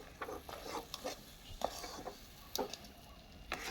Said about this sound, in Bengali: এবার ঘিটা দিয়ে আমি নাড়বো।